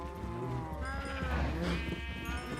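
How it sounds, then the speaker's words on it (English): Sheep in Minecraft bleating, a few wavering calls overlapping one another, fairly close and moderately loud with faint background game sounds. "We can feed the cows and sheep."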